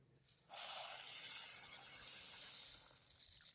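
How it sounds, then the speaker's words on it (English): Rice poured into a pot of boiling water on an outdoor rocket stove, setting off a sudden steady hissing rush that starts abruptly and holds at an even level for several seconds. "I'm going to go ahead and add the rice."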